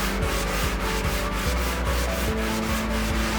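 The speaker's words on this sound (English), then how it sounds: "We're sanding evenly." Steady hand sanding over a hard finish on a wooden drum shell, a close, continuous scratchy rub with even back-and-forth strokes pulsing several times a second, no voices.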